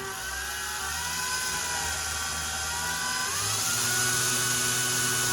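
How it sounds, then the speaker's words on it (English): A power drill bores slowly into a bathroom wall above a tub, whining at a steady pitch that dips partway through and picks up again, loud and close with no talk. "carefully and slowly drill your hole."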